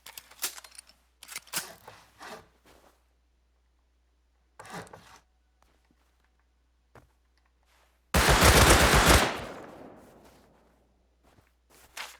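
A Thompson submachine gun firing in Rust Console Edition, one loud, close burst of rapid shots lasting about a second and trailing into a fading echo, after quiet footsteps and shuffling.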